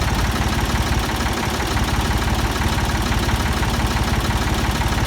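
Ford 2000 tractor engine running close up, loud with a steady rapid chugging throb and mechanical rattle throughout, with no distinct rises in revs.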